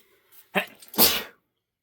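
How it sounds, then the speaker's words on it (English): A single sharp sneeze, close and loud, preceded by a short intake of breath, then silence. "I'm gonna sneeze now."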